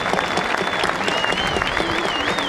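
A crowd at a provincial river festival applauds in a continuous, lively patter, with a high whistle-like tone running through the clapping and faint voices beneath it.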